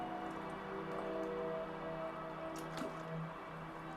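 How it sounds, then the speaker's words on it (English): Water gently poured onto bonsai soil topped with solid organic fertilizer, giving soft close dripping and squishing as the soil soaks it up, with a faint steady hum beneath. "If you water straight away, let me show you what happens."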